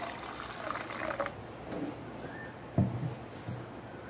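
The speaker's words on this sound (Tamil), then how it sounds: "நல்லா நம்ம வேணுங்கற அளவு தண்ணி ஊத்திக்கலாம்" Water is poured into a blend of curry leaves, lemon and salt to make a juice. A steady, soft trickle and fill runs throughout, with a brief louder splash near the end.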